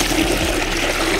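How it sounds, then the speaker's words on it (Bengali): Water pouring steadily into a bucket while preparing medicated drinking water for birds, a continuous close splashing rush with no talk. "পানিগুলো বালতিতে ঢালতেছি"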